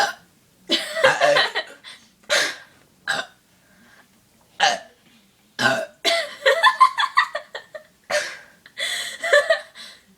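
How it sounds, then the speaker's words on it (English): A person burps repeatedly in a burping contest after taking a drink, with a series of short, separate bursts scattered across the stretch and quiet gaps between them, close and fairly loud. "Burp whenever you want"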